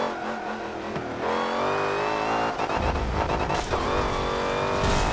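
A 1000-horsepower all-wheel-drive Honda Odyssey family van converted into a race car, its supercharger whining loudly over a steady, revving engine roar, close and continuous with no talking.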